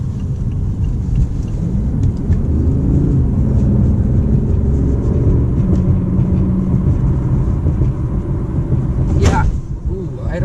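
A BMW i8 supercar rolls over bumpy road, giving a loud, continuous low rumble and thumping road noise from inside the cabin, with a sharp brief clatter near the end.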